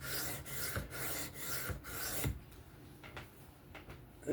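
A Kizer Mini Towser K knife in 3V steel has its tip bevel ground freehand, giving rhythmic back-and-forth rasping strokes, about half a dozen in quick succession, then softer, sparser scrapes, close and faint with no talk.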